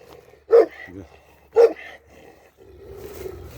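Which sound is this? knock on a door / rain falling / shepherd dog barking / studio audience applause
shepherd dog barking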